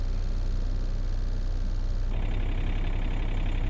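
A farm tractor's engine idles steadily during winter waterer installation, a continuous low, rumbling drone that stays loud and close with no voices over it.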